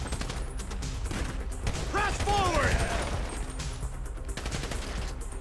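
A headshot in Grand Theft Auto 5 during a bank robbery mission, heard as gunfire over a busy game mix with whooshing effects and constant background noise, while someone talks in Hindi.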